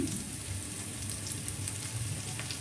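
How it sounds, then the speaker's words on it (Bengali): Chopped onion and ginger fry in a hot pan with a steady, close sizzle that holds at an even level throughout, with no talking. "আমার পেঁয়াজটা মোটামুটি ভাজা হয়ে গেছে তো এবার মশলাগুলো আমি দেবো আদা দিলাম"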